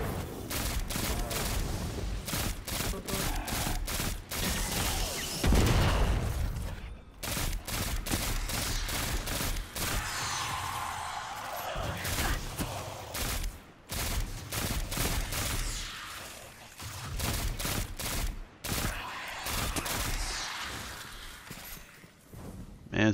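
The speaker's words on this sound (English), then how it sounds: "it's been a while since I used pulse rifles" Rapid bursts of pulse rifle fire in Destiny 2 on Nessus, close and loud, with repeated volleys and short pauses through the stretch, layered over game effects.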